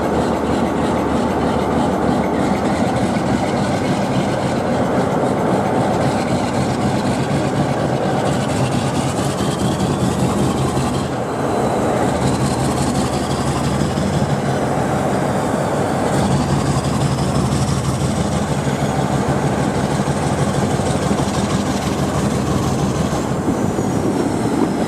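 A diesel locomotive idles at close range, humming and throbbing steadily with a rhythmic beat underneath and faint metallic squeals drifting over the top throughout, at Old Oak Common depot.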